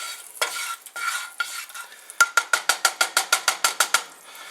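Melted butter and oil stirred in a pan for fried pork chops: a soft sizzle, then a quick run of about a dozen sharp, evenly spaced scraping strokes, close and clear.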